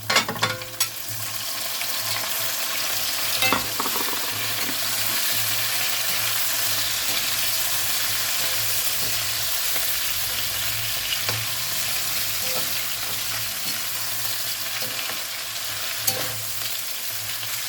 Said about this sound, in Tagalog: Igisa lang po natin ang igisa para po manuot yung lasa ng bawang at saka sibuyas po.